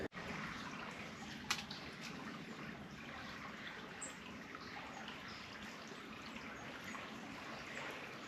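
River water in a video game flows in a steady, soft trickling rush that continues throughout, with one brief faint click early on and no talk.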